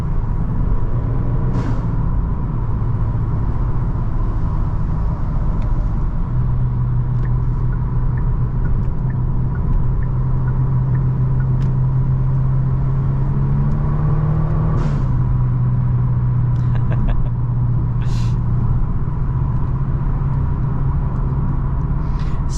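A tuned 450-horsepower 2023 Genesis G70 drives under steady throttle, its engine a continuous loud low drone with a rising pitch swell midway and faint road rumble throughout, no talk.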